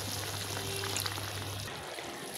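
A little water is poured into a chicken and cabbage curry cooking in a pan, making a short, close, continuous hiss and splash over the sizzle, with no talk.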